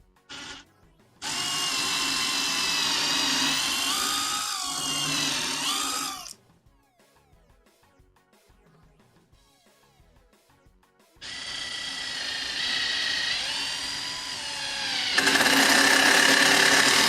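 Power drill driving toe-nailed screws into wood for a CRT stand, two long loud whirring runs with rising and falling motor pitch, separated by a quiet gap, close up and without talk.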